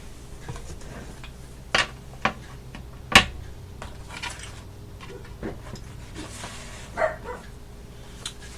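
A small dog indoors gives several sharp, separate barks spaced a second or so apart, moderately close, amid faint household clicks and rustling.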